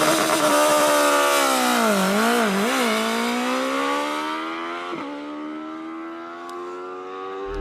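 A BMW S1000RR motorcycle launching with launch control, its engine screaming at high revs close by, the pitch dipping and wavering briefly before climbing steadily as it pulls away and fades slightly into the distance.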